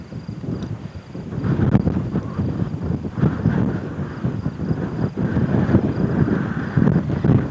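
Wind gusting across an open hilltop, a steady broadband rush with buffeting against the microphone that swells and eases throughout, close and fairly loud with no talking.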